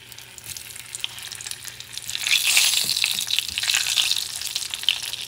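Sausages dropped into a hot cast iron pan, the sizzle building from a low crackle into a loud, steady spitting fry up close.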